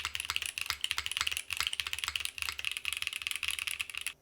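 Fast, continuous typing on a Vida prototype keyboard screwed in at its four corners, with close, crisp, slightly metallic clacks and a brief pause partway through.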